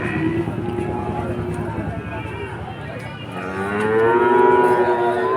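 Bull calves bellow at Chuknagar cattle market, a sustained close moo that swells louder toward the end, over background talk and market noise.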